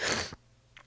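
A single sharp human sneeze bursts out loud and close, then cuts off into near silence with a faint breathy sound after.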